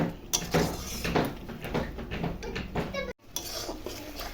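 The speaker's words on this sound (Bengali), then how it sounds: "মশলাটা এখন ভালো করে কষিয়ে নিচ্ছি।" Spice paste being stirred and sautéed in a pot, busy continuous scraping and clinking of a metal spoon against the pan with a faint sizzle underneath, close and fairly loud.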